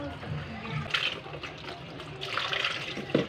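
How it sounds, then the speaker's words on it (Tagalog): Dilis anchovies being rinsed in a basin of water while preparing kilawin, with sloshing and splashing bursts over a low background and a speaking voice in between. "Ugas pa tayo ulit, ugas pa."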